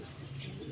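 A returned homing pigeon coos close by, a low steady murmuring call that runs through the whole short moment.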